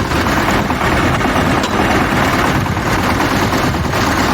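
A Shifeng 160 Turbo Intercooler tractor pulls a Virax 2-25 plough through a field, its engine a loud, steady, close drone with constant low rumble and no pauses.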